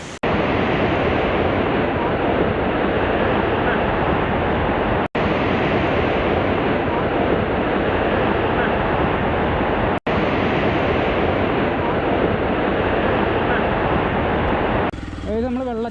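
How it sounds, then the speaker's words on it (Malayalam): Rushing water at a waterfall in a Wayanad rainforest estate, a loud, dense, unbroken roar that fills the whole stretch with only brief dropouts. "നമ്മൾ വെള്ളച്ചാട്ടം കണ്ടു."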